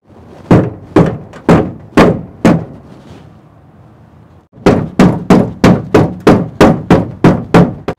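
Loud, close rubber mallet blows strike a part of an old Dodge camper abandoned for 25 years: five evenly spaced dull thunks, a short pause, then a faster run of about nine more.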